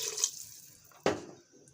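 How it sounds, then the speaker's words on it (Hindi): Water is poured from a glass into a pot of mutton and peas curry, making a brief splash and gurgle near the start and end, close by and moderately loud. "2 गिलास हमने पानी इसमें ऐड कर दिया है।"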